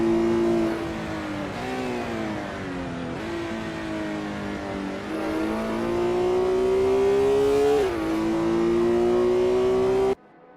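Race car engine in Assetto Corsa club racing at the 24 Hours of Le Mans 1966, a loud, close, sustained drone with harmonic whine rising through gears and dipping at several shifts, then cutting off abruptly.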